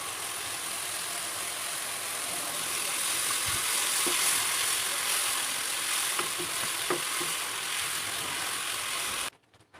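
Spice paste with added yogurt fries in a pan for chicken karahi, giving a continuous dense sizzle that swells slightly midway, with a few faint clinks, then cuts off abruptly at the end.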